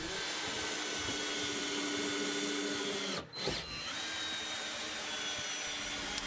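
Power drill driving screws through summerhouse shed cladding into the base, a steady loud whirring drone running almost continuously with one brief pause midway.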